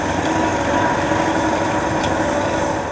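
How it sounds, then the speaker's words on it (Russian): A K-700 tractor engine working in a snowy field during snow retention work hums in a steady, continuous drone, fairly loud and close, with no pauses. "На полях работают два трактора К-700."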